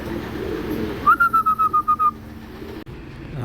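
Racing pigeons cooing, with a short run of about eight quick, evenly spaced bird notes, then a soft background hum and a single click near the end.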